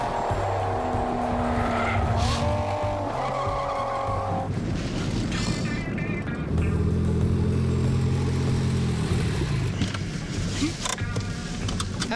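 A James Hunt Mini Cooper driven hard, engine revving loudly up and down through the gears while its tires squeal in long skids, close and sustained with no talking.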